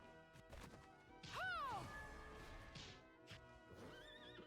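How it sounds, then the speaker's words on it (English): A horse whinnies loudly in Bloodstained: Ritual of the Night, a falling neigh near the start amid game combat sounds, with a second fainter whinny near the end and hoof clatter underneath. "Riding the horse."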